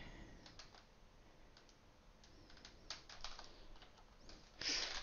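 Keys clack on a computer keyboard in short irregular bursts, close and fairly quiet, ending with a louder cluster of strokes.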